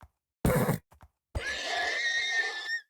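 A short thump, then a loud, drawn-out horse whinny in a video game, rising and holding for over a second before cutting off, clear and close.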